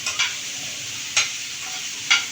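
Onions sautéing in a teaspoon of oil in a pan while cooking paneer and mushroom biryani, a steady close sizzle with three brief stirring scrapes spaced about a second apart.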